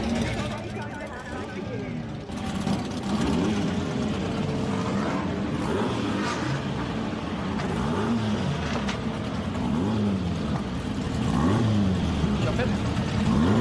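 Race car engines rev and rise in pitch repeatedly under a busy crowd babble, with steady loud rumble throughout.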